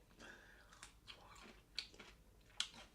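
Close crisp crunches from biting into a pickle spear, several wet snaps with chewing between them, heard alone without speech.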